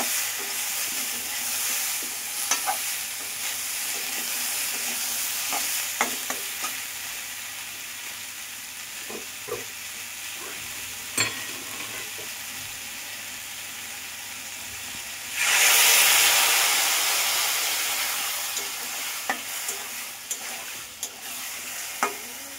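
Fruit chutney with turmeric and a splash of water simmers in a pan, then is brought to a hard boil: a steady close sizzle and bubbling, with a louder hissing surge of steam in the last few seconds.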